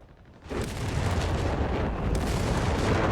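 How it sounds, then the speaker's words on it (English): An artillery salvo in Company of Heroes 3 swells after a brief lull into a heavy, continuous rumbling roar of overlapping blasts. It is loud and close, with no talking. "Another gigantic salvo of artillery."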